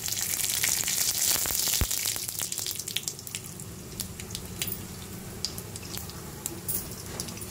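Mustard seeds, about half a spoon, fry in a little oil in a kadai, giving a steady close hiss with scattered tiny pops and crackles that thin out after the first couple of seconds; no voices.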